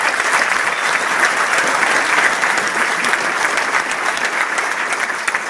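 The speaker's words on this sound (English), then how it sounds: "if there's anyone that deserves a round of applause" A large audience gives a steady, dense round of applause for a regional director at a business presentation, loud and continuous throughout with no pause or talk.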